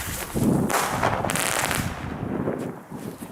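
A single-shot firework bursts with a loud crackling boom, followed by a wash of hissing, rustling noise that slowly fades amid outdoor wind.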